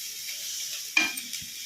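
Garlic and cumin tempering for a spinach chutney crackles in very hot oil, a steady soft sizzle broken by one sharp spatter and a brief stir near the end.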